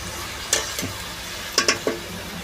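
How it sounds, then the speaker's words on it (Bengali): Duck meat is stirred and fried in a pan: a few quick scraping strokes stand out over a low, steady sizzle. "মামুন এদিকে হাঁস মাংস রান্না করছে।"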